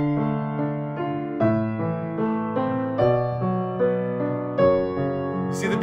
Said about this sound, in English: Minor would sound like this.